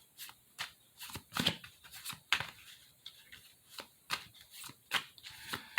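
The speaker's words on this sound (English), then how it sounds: "I think I'm done shuffling cards" Oracle cards being shuffled by hand: a series of quick, crisp riffling bursts separated by short pauses, close and fairly quiet, with no talking.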